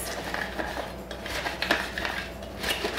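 A kitchen knife slicing through a salad stack of lettuce, apple, cucumber and carrot, giving soft crunching cuts and light clinks of blade on a board, steady and close.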